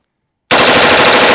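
PSA Sabre rifle with a forced reset trigger firing a rapid, continuous burst after brief silence, loud and close, shots blurring into a fast rattling string.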